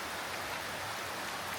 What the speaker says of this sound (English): It's very cloudy and it's raining again.